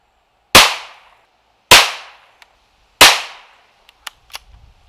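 Three loud, sharp .22 caliber gunshots fired with Federal ammunition, each a hard crack with a short ringing decay, spaced about a second apart, followed by a few faint clicks.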